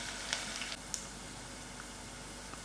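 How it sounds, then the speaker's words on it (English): Onions frying in a pan, mixed with Sem and Gadra beans, give a faint, steady sizzle throughout with a few small pops and crackles and no talking. "I will allow this to fry out for about 5 minutes till it's done."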